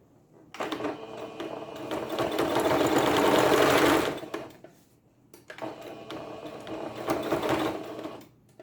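A sewing machine stitches a mug rug in two close, steady runs, a fast mechanical whirring and clatter for about three seconds, then a pause and a second shorter burst.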